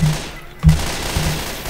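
Sniper rifle fire in the video game Left 4 Dead 2, with two heavy low-pitched shots about half a second apart, punchy and loud, and a third fainter report following.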